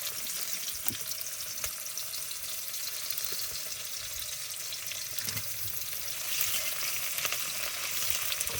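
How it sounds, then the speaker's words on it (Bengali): Chopped onions drop into well-heated oil that had cumin in it and fry with a steady, close sizzle and hiss, swelling slightly toward the end, with no talking. "পেঁয়াজ দিয়ে দিলাম।"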